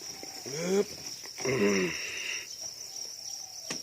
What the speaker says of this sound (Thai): อาณาจักรจิ้งหรีดทองทองดำทองแดง